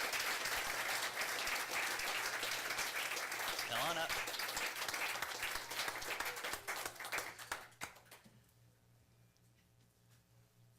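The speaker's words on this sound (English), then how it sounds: "Give Maggie a round of applause." Audience applause at a city council meeting in Turlock, honouring an Employee of the Month, loud and steady for about seven seconds with a brief voice partway through, then tapering to a quiet room.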